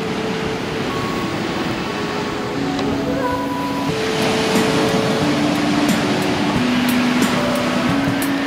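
Lake waves lap beside a small wooden pier, a steady broadband wash of water, with wind and a distant motor hum running underneath and brief faint voices over it.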